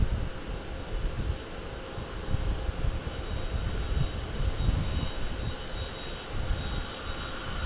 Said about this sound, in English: So we get a 737 from Southwest Airlines here landing.